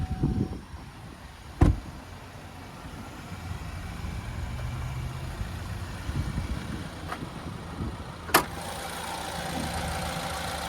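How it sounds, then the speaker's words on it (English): A 2023 Chevrolet Blazer 2LT's 2.0-liter turbocharged four-cylinder idling with the hood open, a low, steady engine hum punctuated by a couple of sharp clunks, no talking. "And there's that 2-liter turbocharged 4-cylinder."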